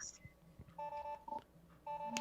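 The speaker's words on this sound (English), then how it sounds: "Oops, that's my phone going off." A mobile phone goes off with a string of short electronic tones in a beeping, dial-like pattern, clear and close, with pauses between bursts and no talking.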